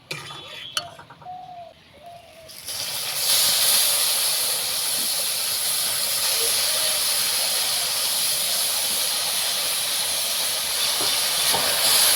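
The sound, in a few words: grated raw papaya sizzling as it is added to caramelised sugar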